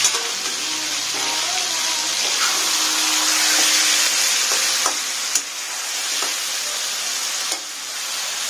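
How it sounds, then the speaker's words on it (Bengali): Mutton with cumin, chilli, turmeric and coriander powders being stirred and fried in a pan, giving a steady close sizzle with occasional scraping knocks of the spoon. "মাংসটাকে আমরা এখন নেড়ে নিচ্ছি"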